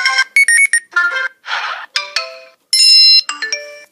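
A series of iPhone ringtones previewed one after another on iOS, each a short melodic chime or alert pattern with clear gaps between them, loud and close with no talking.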